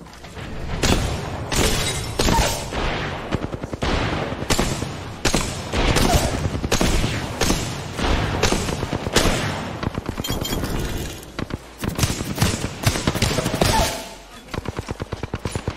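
Gunfire in the video game Apex Legends, rapid automatic bursts and single shots rattling in quick clusters across the whole stretch, loud and close, with brief gaps between volleys.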